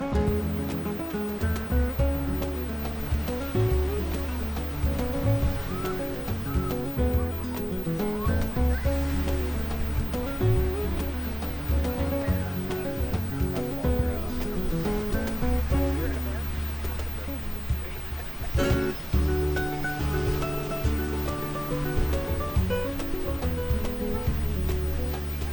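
Ocean waves wash onto the beach at Planet Hollywood Cancun resort in a continuous, fairly loud roar of surf, with faint background voices.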